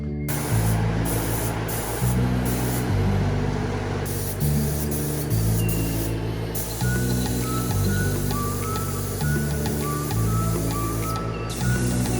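Spray gun applying primer to a 2017 Ford Focus ST body and bumper in a workshop, with loud bursts of hissing spray that start and stop in a repeating rhythm over a steady compressor hum.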